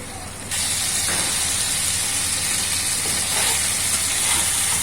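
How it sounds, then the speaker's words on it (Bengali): Chicken frying in a pan, giving a steady, loud broadband sizzle and hiss that continues throughout with a faint voice underneath. "এটা দশ মিনিট ভাজতে হবে"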